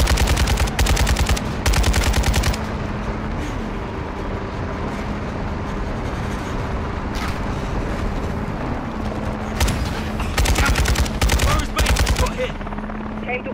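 Light machine gun fire in Call of Duty: Modern Warfare II, heard as several loud sustained bursts of rapid shots separated by pauses, over a constant mechanical rumble of combat.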